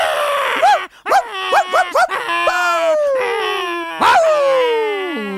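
Dogs let out a quick run of rising yelps, then break into long, drawn-out howls that fall in pitch. The sound is loud and close.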